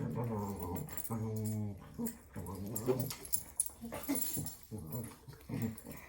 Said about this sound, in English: Please ignore the dogs, they're fighting over who gets to lay under the table.